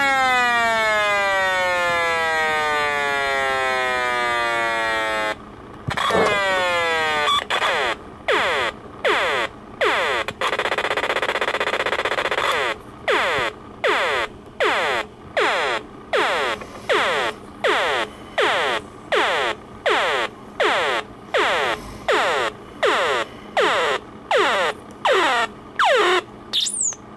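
A vintage audio frequency generator toy sweeps electronic tones up and down in siren-like glides, then switches to rapid pulsed on-off beeps in a steady rhythm, loud and alone without talk.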